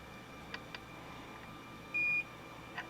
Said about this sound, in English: I'm getting a bit of a long beep, but these are actually all checking out according to the multimeter.